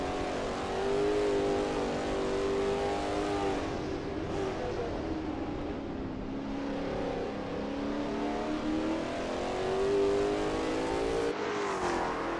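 A Lola T70 MkII Spyder race car runs at Kyalami in a racing game, its engine droning steadily and rising and falling in pitch through the gears and corners, loud and continuous, with no voices.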